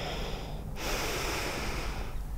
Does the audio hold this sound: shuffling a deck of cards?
no